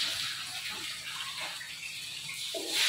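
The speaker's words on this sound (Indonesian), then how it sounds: "menyiram kepala dengan air, bisa diambil dari gayung sebanyak 3 kali" Water from a dipper (gayung) poured over the head during a bath, a soft splashing gush that rises again near the end.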